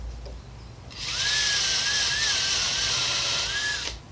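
A power drill sharpens wooden seedling markers for a garden, giving a single loud, steady high whine with a grinding edge, close by, lasting about three seconds between quiet moments.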